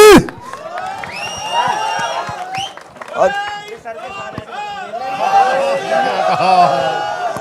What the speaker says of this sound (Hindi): सन्नी बाजी के लिए जोरदार ताली हो जाए यार